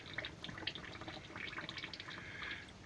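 Water dripping and trickling through four layers of cloth as clay is refined, faint scattered drips and a soft continuous seep with no talking.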